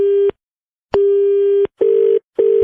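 A telephone handset gives off a loud, steady dial tone during a call, broken into several long and short bursts separated by silent gaps.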